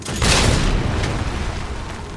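A rocket launcher fires in Resident Evil 3 Remake, producing a single heavy boom that hits hard and rolls off into a fading rumble.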